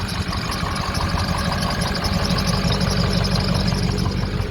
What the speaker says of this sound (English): So it's got a little bit of belt squeal. It's an older belt.